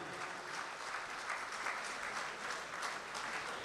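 Steady audience applause at a mushaira poetry gathering, a continuous wash of many hands clapping at moderate distance with no speech over it.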